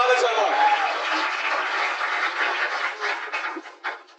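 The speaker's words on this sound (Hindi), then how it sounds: "तालियां बजाते रहिए" Audience applause at a Hindi shayari poetry gathering, a continuous dull wash of clapping that thins toward the end, muffled and slightly distant, with voices mixed in.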